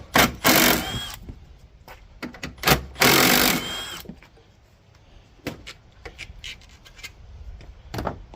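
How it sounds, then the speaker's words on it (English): Top bracket being unbolted on a Hyundai Santa Fe 2.0T during intercooler replacement, with two loud bursts of a power tool whirring up close, followed by scattered clicks and clinks of metal parts and tools. "now we're gonna remove the bracket of the top"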